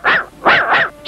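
A dog barks three times in quick succession, close and loud, with a fourth bark starting at the end.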